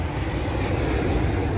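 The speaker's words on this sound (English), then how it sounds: "I tried to get that airplane that was coming by." An airplane passes over an aircraft observation park, a steady, loud roar of engine noise that fills the short stretch evenly with no voices.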